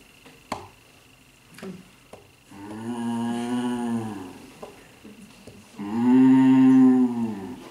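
A man imitates a cow with two long, drawn-out moos during a talk at a Sunday festival gathering, the second louder and fuller, separated by brief quiet and a few small clicks.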